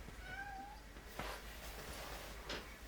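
A pet cat meows a few times, softly and not far off, over a steady low electrical hum in a workshop where a Yamaha SA-30T guitar is being restored.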